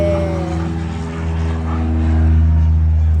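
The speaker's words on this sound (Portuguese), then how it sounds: "Deixar o avião passar." An airplane passes overhead with a loud, steady engine drone and propeller hum that swells slightly toward the end, heard alone with no talking.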